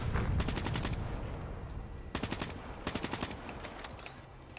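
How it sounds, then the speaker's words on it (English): KN44 assault rifle on rapid fire in Black Ops 3 multiplayer, with dense bursts of automatic gunfire in rapid clusters, loud and close, over constant game background noise. "I am running rapid fire on the KN44 for my viewers"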